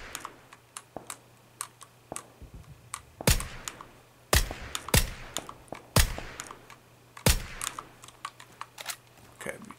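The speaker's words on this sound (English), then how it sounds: "There's definitely gunfire." Sharp bursts of PUBG gunfire on the Miramar map on Xbox, several loud cracking shots spaced out over a steady patter of quieter clicks and taps.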